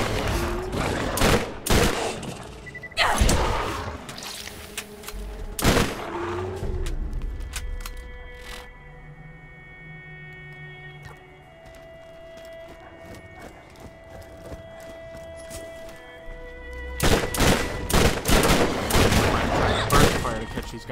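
Rapid bursts of automatic gunfire from weapons in the Borderlands video game, clustered at the start and again near the end, with quieter game ambience and scattered tonal effects in between.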